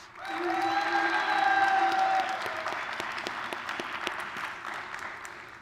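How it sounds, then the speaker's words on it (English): A chapel audience gives a steady round of applause for a student affairs speaker, dense clapping sustained throughout with a few sung or whistled tones early on, fairly close and even. "please give a nice round of applause to our Residence Life Coordinator"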